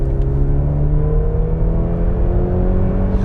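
A Mercedes-Benz GLC 300 4MATIC accelerating for an overtake, its engine note a steady, loud drone that climbs gradually with a slightly lagging transmission response, close and continuous with no talk.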